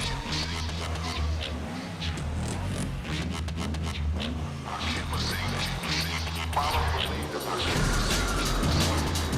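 In the arcade street-racing game Midnight Club 3, a car engine revs and climbs through repeated pitch sweeps as it tears through city traffic at high speed, with a voice talking over it.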